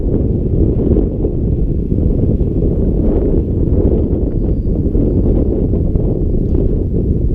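Strong wind buffeting the microphone outdoors while a UMX Conscendo RC glider is flown, a loud, steady low roar that fills the whole stretch.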